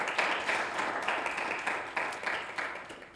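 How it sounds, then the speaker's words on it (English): Sustained applause from a conference audience for a diplomacy panel, dense steady clapping with a few sharper bursts, fairly close and loud throughout. "a great round of applause"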